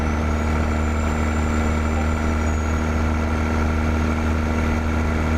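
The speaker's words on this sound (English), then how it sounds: "That's that Caterpillar C16 you're hearing." A Caterpillar C16 truck engine in American Truck Simulator drones steadily at cruise, a loud, even rumble with a constant hum and no break, heard alone.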